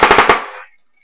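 Airsoft AK-47 rifle firing a short full-auto burst of about four rapid pops, close and loud, then a quick fade into silence.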